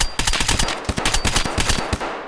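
Rapid bursts of automatic gunfire in Escape from Tarkov, loud and close, shots rattling in quick succession throughout.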